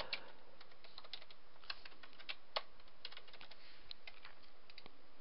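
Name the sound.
typing text on a computer keyboard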